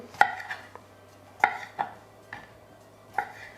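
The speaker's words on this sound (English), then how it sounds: "Tomato we cut in pieces" Knife strokes chop a tomato into pieces on a board, several sharp taps at an uneven pace, close and clear with no talking.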